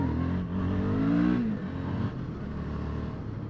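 Suzuki V-Strom 650 XT motorcycle accelerating hard as the front wheel lifts, engine note rising in pitch, then dropping at a gear change before pulling again under steady wind noise.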